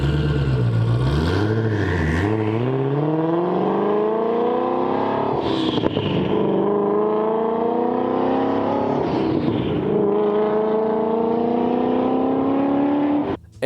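A twin-turbo GT3 sports car engine, loud and close, with a steady revving tone that rises and dips through several climbs as the car accelerates, then cuts off abruptly at the end; no talking.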